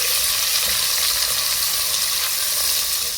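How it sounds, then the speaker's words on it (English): Onions and green chilies frying in a pan for Hyderabadi mutton marag, a close, continuous bright sizzle with fine crackling that stays steady throughout, no voices. "then I'm adding the onions and the green chilies. Let's just brown it up nicely"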